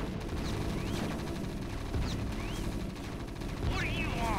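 Gunfire from the Terran campaign of the real-time strategy game StarCraft rattles on in dense, continuous bursts, layered with other game sound effects.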